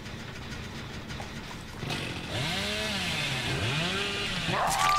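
The Hillbilly's chainsaw in Dead by Daylight revs up, its whining engine pitch rising and dipping in waves over a low idle, moderately loud with no talk.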